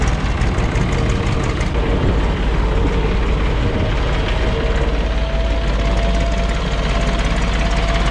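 An Ursus C-360 tractor with a Perkins diesel engine runs close by, a loud, steady low rumble with a rough, knocking throb that fills the whole clip without letting up.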